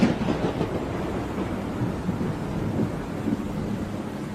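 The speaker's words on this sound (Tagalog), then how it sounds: "ang lakas po ng kulog at kidlat, no?" Thunder during a night storm in a remote village: a steady, low, heavy rumble that stays at an even loudness throughout, with rain-like hiss mixed in and no talking.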